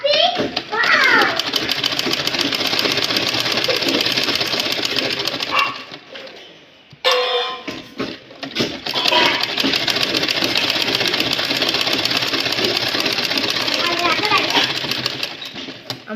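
A sewing machine runs steadily, stitching all around fabric for a blouse latkan, pausing briefly midway before resuming its fast whirring; children's voices chatter in the background.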